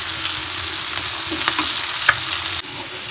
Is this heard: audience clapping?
no